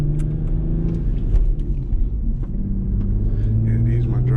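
A Lexus IS300 with a swapped 2JZ engine and five-speed manual gearbox is driven, giving a steady, close low rumble that swells slightly mid-drive. Faint voices sit underneath.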